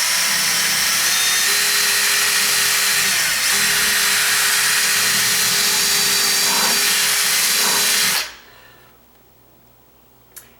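A power drill drives a bit into a sagging double door, whining steadily for about eight seconds, loud and close, with a brief dip in pitch partway through, then stops, leaving near silence and a small click.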